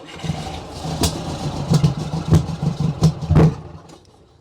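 A Pinzgauer off-road vehicle engine being cranked for a start, loud rhythmic turning-over pulses with uneven sputtering pops and bangs, fading out as the attempt ends.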